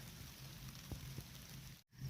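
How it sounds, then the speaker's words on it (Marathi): Steady soft patter of light rain fills the background, with a couple of brief low thumps and a short dropout near the end. "थोडा थोडा पाऊस पण यायला लागला आहे बारीक बारीक"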